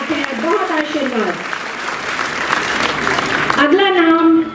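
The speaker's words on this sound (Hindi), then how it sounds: "जोरदार तालियां यशिका भट्ट के लिए" Enthusiastic audience applause fills an awards ceremony honoring a Special Olympics netball gold medalist, a dense continuous clapping under a loud host's voice speaking over it.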